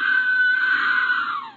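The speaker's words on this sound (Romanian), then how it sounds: "Nu m-am speriat de la bun început de poza asta care țipă." A shrill, sustained scream from a jumpscare picture in the video game Scary Maze Game, loud and alone, holding steady before fading out at the end.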